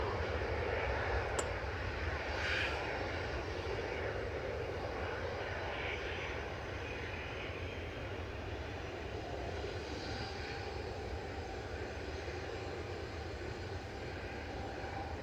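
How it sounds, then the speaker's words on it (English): A Ryanair Boeing 737-800 jet departing Manchester Airport, bound for Bologna, gives a steady, broad engine roar that holds at a distance and fades slightly over the span, with no talk. "Ryanair's going next to Bologna flight 2242, 9HQEG is a 737-800."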